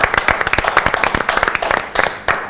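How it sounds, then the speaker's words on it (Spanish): Studio audience applauding a guest, a Córdoba legislator, on a TV talk show; dense, steady clapping from a crowd fills the whole moment with no talk over it. "Fuerte el aplauso para él, hoy en Descarrilado."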